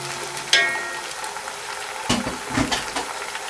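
Onions coated in ginger garlic paste sizzle and fry over a high flame for a chicken karahi, with a steady hiss broken by a few sharp scrapes and clatters of stirring; no one speaks.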